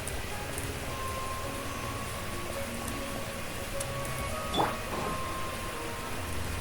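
In the video game Genshin Impact, light rain patters as a steady, uniform hiss, joined by faint sustained tones and one short, brighter sweep near the end.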